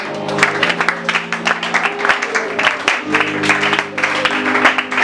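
A church congregation at a prophetic night service claps in dense, rhythmic applause, loud and close, with voices and music woven in among the claps.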